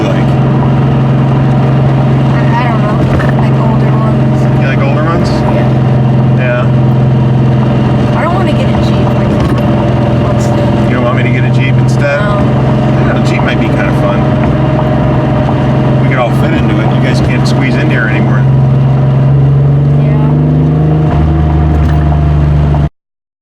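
A Porsche 911 engine runs at hot idle, a loud, steady low rumble with a constant hum that holds for over twenty seconds and shifts slightly near the end, while people talk over it.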